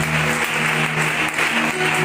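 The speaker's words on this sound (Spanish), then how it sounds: "fuertes aplauso para Dios con alegría, confirmando estas oraciones" Spanish-speaking church congregation giving a loud round of applause to God after prayers, dense continuous clapping from many hands, heard close and alone.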